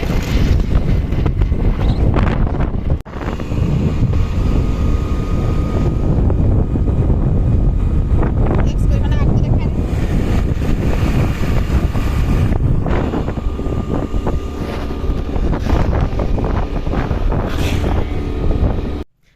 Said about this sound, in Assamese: ইমান বতাহ একো চাবই নাই ন